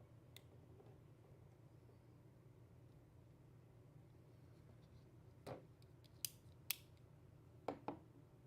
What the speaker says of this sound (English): let me make another cut for the slip